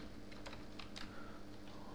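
Keystrokes on a computer keyboard as a web address is typed into a browser: a quiet, irregular run of light clicks over low background hum.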